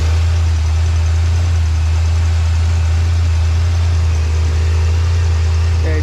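The engine of a 1986 Pontiac Trans Am with fuel starvation trouble idles close by, a steady loud low drone with an even hum that barely changes, and nobody speaks.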